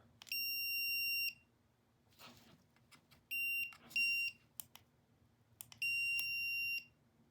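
A Wiha electrical tester emits a steady high-pitched electronic beep three times, each lasting about a second, with clicks and handling noise between them; close and clear.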